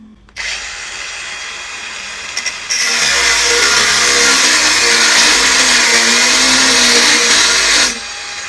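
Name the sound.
cordless angle grinder cutting 16 mm solid steel bar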